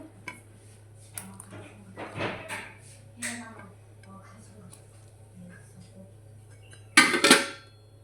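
Cut drumsticks go into a pot of sambar with water, chili powder and turmeric: a few scattered light clinks, then a sharp, loud clattering burst near the end.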